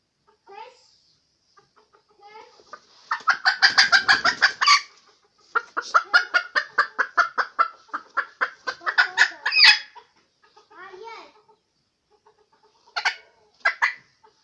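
A rooster in a chicken coop clucks and squawks in bursts of rapid, harsh calls, close and loud, with quieter pauses between flurries.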